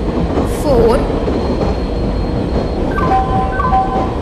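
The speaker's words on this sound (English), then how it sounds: "Passenger express is arriving at platform number 4." A passenger express train arrives at a platform in the Indian Train Simulator video game: loud continuous rail rumble and wheel clatter, a brief squeal of wheels, and faint tonal announcement chimes or brake whines toward the end.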